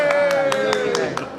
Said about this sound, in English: Cheer and applaud.